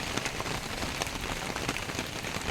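Steady rain falls on a pond under trees in an overcast countryside setting, a dense, even patter of drops hitting water and leaves, close and continuous with no pauses.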